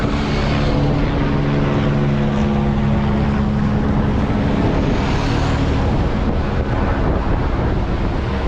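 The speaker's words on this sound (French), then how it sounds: "après il y a du vent, c'est un peu chiant" Strong wind roars continuously across the microphone during a men's cycling road race stage, a loud, unbroken buffeting rumble with no pauses.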